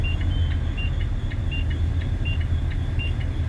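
A First Student school bus engine rumbles low and steady, close by, while short dashboard beeps repeat at a regular pace over it.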